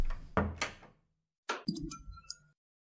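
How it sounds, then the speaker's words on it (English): A door opens in a horror video game, with a few sharp creaks and knocks in two short bursts separated by a pause of silence. "I open up a door that leads to my room."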